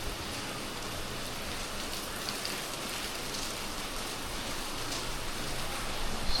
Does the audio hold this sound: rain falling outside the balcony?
yes